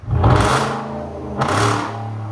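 A loud, deep 4.6L V8 engine of a 2012 Hyundai Genesis with Dynomax Bullets and muffler delete revs up twice, roaring and then settling back to a rumbling idle.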